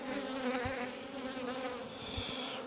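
Honey bees swarm over a hive frame during an inspection of a colony from a split, giving a steady, dense buzzing hum that stays close and unbroken throughout, with no voices.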